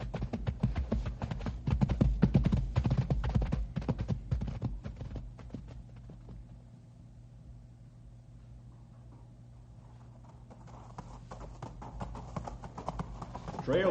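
Horses' hooves clip-clop over a rocky trail in a radio drama, a busy, close clatter that thins out and softens midway before building again toward the end.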